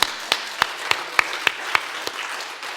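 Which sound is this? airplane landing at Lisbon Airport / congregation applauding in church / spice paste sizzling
congregation applauding in church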